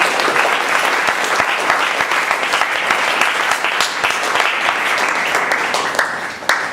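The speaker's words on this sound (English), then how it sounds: "can we give a huge round of applause for both of them?" Audience applause at a Toastmasters meeting: dense, steady clapping from a room of people, sustained evenly throughout and tapering slightly at the end.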